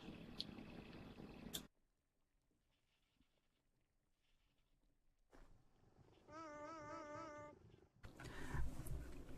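Cat meowing and purring nearby, soft close vocal calls after a loud burst of other sound, with brief quiet gaps between.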